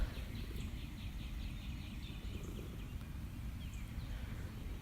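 Faint spring bird chirps and song phrases in the distance over a low steady rumble of background noise.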